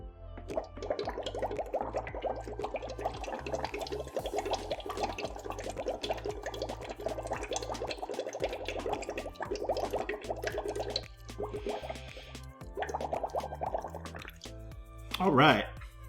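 Blowing into a glass of alkaline drinking water makes steady, close bubbling and gurgling for most of the stretch, broken by a few short pauses, with a brief louder burst near the end.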